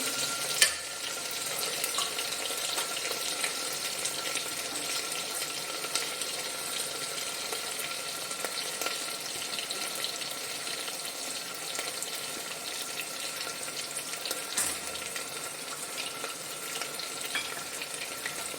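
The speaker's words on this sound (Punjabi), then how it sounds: "ਤੜਕੇ ਨੂੰ ਬੜੇ ਵਧੀਆ ਤਰੀਕੇ ਨਾਲ ਭੁੰਨਣਾ" A tempering of spices roasts in a pan with gourd, a soft, steady sizzle and crackle running evenly throughout with faint occasional stirring scrapes and no talking.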